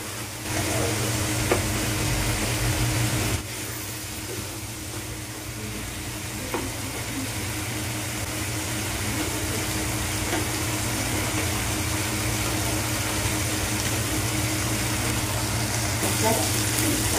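Lote fish with onion, tomato and green chilli fries in a pan, giving a steady, close sizzle with scraping stir strokes throughout.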